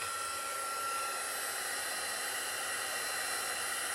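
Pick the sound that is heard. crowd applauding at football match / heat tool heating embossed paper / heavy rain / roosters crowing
heat tool heating embossed paper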